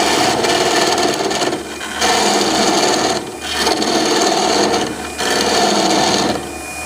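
Wood cut down on a lathe with a turning tool while shaping a candlestick, a loud continuous rasping cut in three long passes with brief pauses between them.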